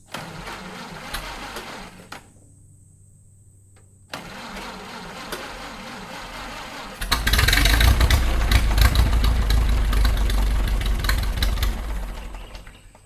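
A 1930 Ford Model A tractor engine runs roughly and then drops out briefly. It restarts and surges into a loud, close, lumpy run that stays strong for several seconds before easing off slightly.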